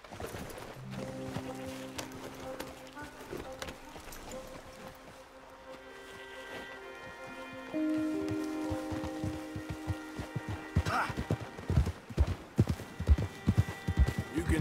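Horse hooves clip-clop along in the Red Dead Redemption 2 video game. They start soft and steady, then turn louder and sharper in the second half, set under a layer of tonal music.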